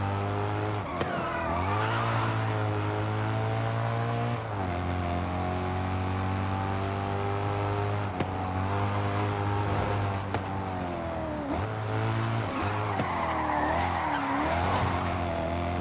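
A stock car in Forza Horizon 5 revs loudly and skids, its engine note rising and falling through repeated gear changes while tires squeal through drifts, steady and close throughout.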